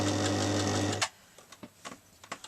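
A sewing machine runs steadily stitching a seam on a denim tote bag made from jeans, then stops abruptly. A few small clicks and taps from the machine and fabric follow.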